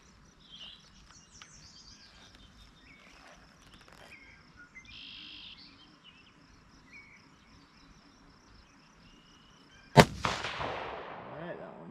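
A Ruger American Predator Gen 2 in 6.5 Grendel fires a single sharp, loud rifle shot near the end, its report ringing out after a long quiet stretch of crickets and birds chirping in the background.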